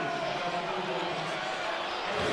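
Sellout basketball crowd inside the Mullins Center reacting unhappily to a foul call, a sustained murmuring roar of voices with a dull thump or two, steady throughout.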